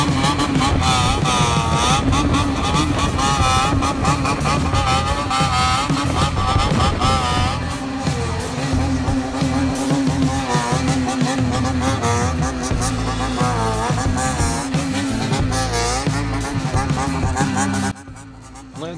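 Bosozoku motorcycle engines rev and drone loudly in continuous, wavering pulses that rise and fall in pitch. The sound runs nearly unbroken before cutting off abruptly near the end, with a voice speaking over part of it.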